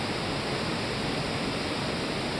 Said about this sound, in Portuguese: Essa é a cachoeira